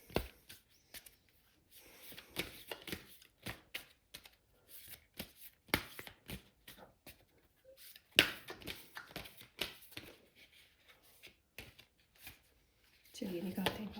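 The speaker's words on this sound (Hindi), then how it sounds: "तो चलिए शफल कर लेते हैं हम कार्ड्स को।" Tarot cards are shuffled by hand in quick irregular riffles and soft slaps, close and fairly quiet, with brief pauses between bursts.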